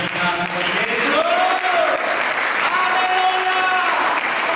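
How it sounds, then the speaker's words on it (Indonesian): Continuous loud applause from a church congregation during worship, a thick wash of clapping with a voice calling out over it. "Mari kita berikan tepuk tangan bagi Yesus."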